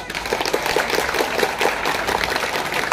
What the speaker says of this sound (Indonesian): Tepuk tangan untuk pengurus